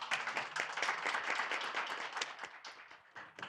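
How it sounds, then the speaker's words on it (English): An audience at the Asia-Pacific 2022 conference technical session gives a round of applause, a continuous, fairly soft and distant wash of many hands clapping that thins slightly toward the end. "please welcome him with a big round of applause"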